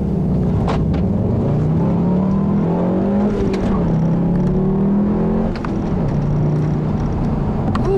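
A turbocharged 2014 Volkswagen GLI Autobahn engine pulls under acceleration, a strong droning growl rising and falling in pitch through gear changes, heard from inside the car, steady and fairly loud throughout.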